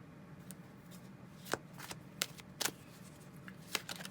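Tarot cards are shuffled by hand in a quiet room, with a run of soft riffles and several crisp snapping card flicks at irregular intervals, close and fairly faint.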